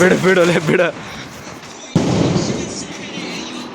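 A firecracker goes off with one sharp, loud bang and a rough, decaying crackle, following a brief stretch of talk and a quiet pause.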